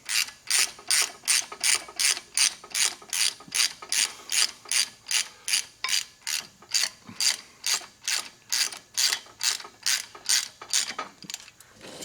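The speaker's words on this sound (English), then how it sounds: "so you gotta kind of use your ratchet" A hand ratchet snugs rear disc brake caliper bolts with a long, steady run of crisp, close clicks in an even back-and-forth rhythm, and no talking.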